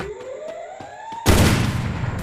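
Gunfire in a shooting video game, preceded by a rising electronic whine and faint ticks, then a sudden loud burst of sustained noisy blasts that fills the rest of the moment.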